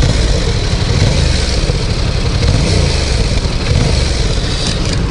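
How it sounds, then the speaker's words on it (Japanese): A 2018 Yamaha MT-07 two-cylinder motorcycle idles with its exhaust loud and close, a steady throbbing low pulse with slight swells in revs and no talk over it. "ヤマハのこの力強い感じの二気筒のこの音がなんかね、僕は好きなんですよね。"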